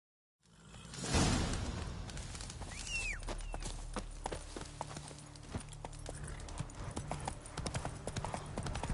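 Horse hooves in Witcher 3 clip-clop in a quick, steady gallop, close and clear, with a whoosh at the start and a short neigh over the hoofbeats.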